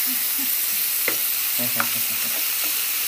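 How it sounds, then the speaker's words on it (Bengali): Stingray fish frying in oil with a loud steady hiss up close, a few brief clinks of a utensil against the pan, and faint low background voices. "আর এই শঙ্কর মাছ ভাজছে"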